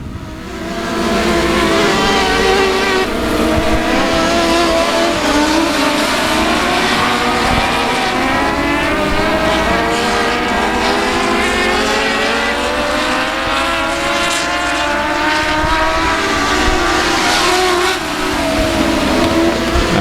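Stock cars racing at South Texas Speedway, a loud, sustained roar of engines with rising and falling pitch as the pack circles the track, continuous for the whole stretch.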